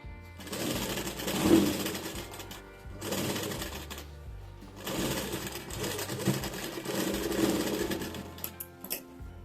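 Sewing machine stitching blouse fabric, running in steady whirring, rattling spells that pause briefly and restart, close and moderately loud.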